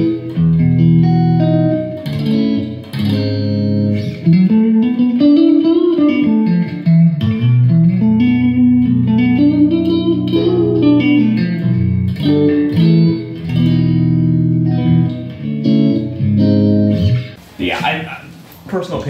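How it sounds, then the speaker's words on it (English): Electric guitar through a Blackstar HT Club 40 MKII amp with dark reverb, playing sustained chords and sliding melodic lines that ring out with a lush wash, alone without talk. "So let me go ahead and turn on the other reverb. This will be the dark reverb."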